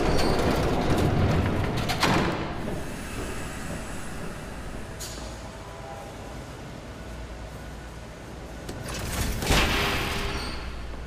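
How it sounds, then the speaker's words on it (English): In the video game Batman: The Telltale Series, a train approaches as a steady, noisy rumble, with a couple of sharp bangs and a swelling roar near the end and no voices. "There's a train coming."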